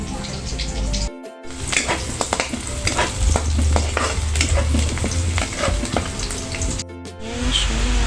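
Vegetable pakbet sizzles and fries in a pan, with steady stirring and scraping over a continuous crackle, close and fairly loud, broken by two brief silent gaps.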